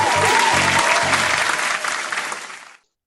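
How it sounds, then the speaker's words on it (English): Audience applause after a television talk show interview with Mrs. Universe winner, a dense steady wash of clapping at full strength that fades out over the last half second. "I can still, hear the applause ringing in my ears."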